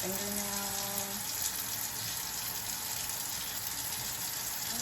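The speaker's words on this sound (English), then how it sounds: "Once you're ready, you can rinse off." Water runs steadily from a tap while hands are rinsed, a close, continuous splashing flow that stays even throughout.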